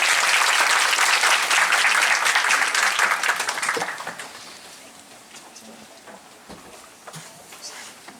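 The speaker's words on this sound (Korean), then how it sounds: "박수 부탁드립니다." A seminar audience gives loud sustained applause to welcome a speaker; the clapping stays dense for about four seconds, then thins out to a few scattered claps and quiet room noise.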